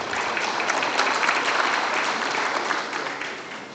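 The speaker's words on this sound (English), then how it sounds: "Let's all give them a round of applause for their valuable contributions." A round of applause for forum panelists at a business forum, a dense, sustained burst of many hands clapping that fills the room and fades slightly at the end.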